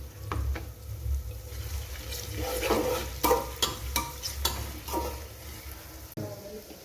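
Onions fry in a pan with chillies, ginger and garlic added for a sweet corn pulao, a soft continuous sizzle under a series of spoon scrapes and clinks against the pan.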